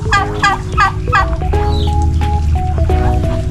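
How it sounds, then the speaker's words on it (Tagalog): Backyard turkeys gobble in a quick run of repeated calls, loud and close, while other fowl such as ducks and chickens call in the background. "pato, pabo, manok."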